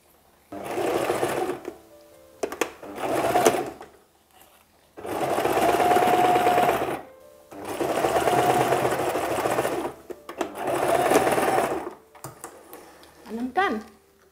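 Sewing machine stitching bias tape onto the neckline edge of a Buba blouse, running in several long bursts separated by short pauses, close and steady, with brief handling noises in between.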